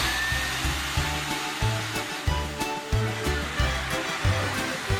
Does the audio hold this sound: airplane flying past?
no